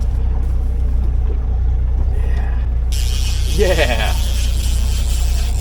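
A boat motor runs wide open while coho fishing in Washington. Its loud, steady low drone continues throughout, and a voice briefly speaks over it.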